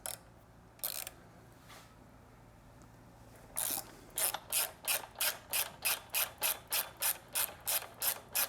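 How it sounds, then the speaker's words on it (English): A ratchet wrench clicks in short, even bursts while loosening the foot peg mount bolts on a Triumph Street or Speed motorcycle, with a few separate clicks first and then a fast regular series close by. "we want to remove the foot peg mount and bushing using a 12mm wrench and a 6mm hex head."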